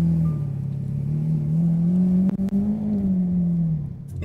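A car engine revs near and loud, holding a steady low rumble that swells and dips for several seconds, with no talking over it.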